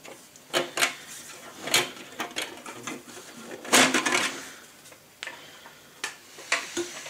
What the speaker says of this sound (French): je vais dévisser cette partie-là parce que c'est là où il y a les processeurs